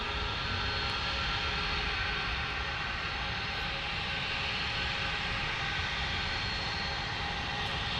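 Airbus airliner at Dallas Fort Worth airport, its engines making a steady, continuous broadband roar at moderate distance throughout, with no talk.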